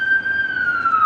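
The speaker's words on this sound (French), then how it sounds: "J'entends la sirène qui se rapproche." An ambulance siren on a city street, a loud sustained wailing tone that slowly slides in pitch, heard alone with no talking.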